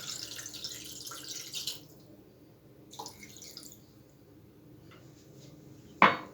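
Half a cup of water is poured into a cooking pan while preparing chicken tikka, giving a short trickling splash early on, then quieter kitchen noise and a sharp knock near the end.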